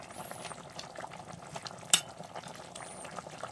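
Fried bata fish goes into a potato and cauliflower curry, which bubbles and sizzles softly in the pan, with one sharp utensil click partway through.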